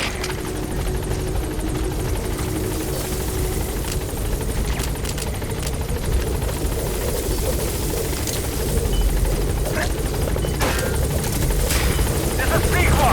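A helicopter in the stealth video game Metal Gear Solid V: The Phantom Pain drones with a loud, continuous rotor roar that builds slightly toward the end, with a voice speaking over it.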